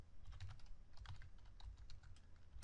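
Steady, rapid keystrokes on a computer keyboard while code is written, a close, continuous run of clicky taps with brief pauses and no voices.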